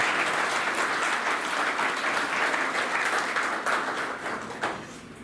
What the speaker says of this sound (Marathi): एकदा या प्राध्यापकांसाठी जोरदार टाळ्या वाजवा.